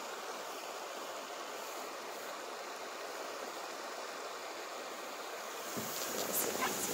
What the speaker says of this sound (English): This is also a portion of Rocky Brook.